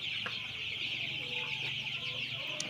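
Young chicks around twelve days old chirp in a poultry farm shed, a steady dense chorus of high peeps with a few louder calls rising above it, close by and continuous.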